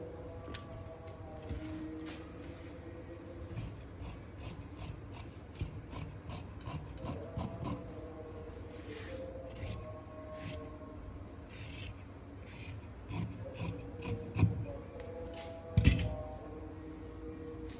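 Cloth being cut for a wide-panel suit: a quiet series of crisp, fairly regular snipping clicks with soft rustling of fabric in between, close by and without any talking.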